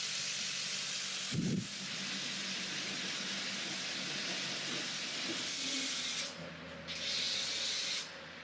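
Steady broadband spray hiss of pink foam being applied to an old, abandoned armored cash truck under restoration, holding nearly constant with a brief low thump early on and short breaks in the hiss near the end.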